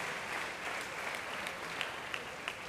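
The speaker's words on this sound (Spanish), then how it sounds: "Denle un aplauso al Señor Jesús." Church congregation applauding at a Christian conference, a steady, dense wash of many hands clapping from across the room, fairly faint and continuous with a few sharper claps standing out near the end.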